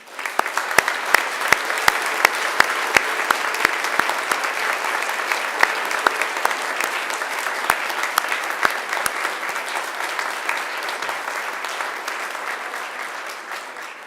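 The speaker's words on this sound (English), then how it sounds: "And now it's time to give them a mighty round of applause" Graduates at a Macquarie University graduation ceremony turn to face families and friends and applaud them, a loud, full, sustained ovation from a large hall crowd with a few crisp individual claps popping out, slowly easing toward the end.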